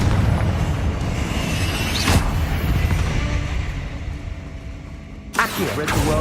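A Confringo fire spell exploding in Hogwarts Legacy: a deep rumbling blast with a sharp crack near the two-second mark and another burst at the end, loud over a steady low roar of battle.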